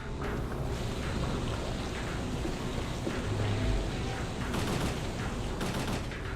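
M4 assault rifle firing in the PlayStation game Parasite Eve II, a dense continuous roar of rapid gunfire with rumbling low end and intermittent louder bursts throughout, no voices.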